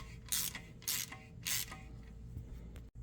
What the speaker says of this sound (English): I'm running a tap through all of the oil pan bolt holes